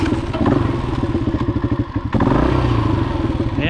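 A motorcycle with a sticky clutch rides along, its engine running loud and steady with a low, throbbing rumble, a brief dip partway through, then pulling strongly again.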